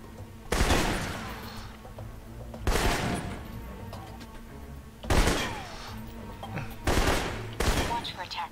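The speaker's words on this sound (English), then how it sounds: "For long-range encounters, the assault rifle's the key. It's accurate, powerful." Assault rifle gunfire in the video game Alpha Protocol, four loud bursts of rapid automatic shots spaced a couple of seconds apart, with quieter game sounds between them.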